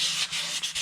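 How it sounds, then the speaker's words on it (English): Continuous abrasive sanding of a solid guitar body, close and steady, with the paper rubbing back and forth in brief strokes and slight dips between passes. "I'm not going to make anybody suffer through a whole guitar sanding, even in fast forward"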